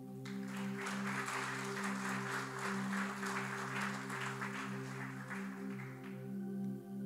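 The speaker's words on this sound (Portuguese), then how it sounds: "Você pode aplaudir ao Senhor por isso?" A church congregation applauding during a sermon, a sustained wash of clapping from many hands over a steady organ-like tonal drone, fading toward the end.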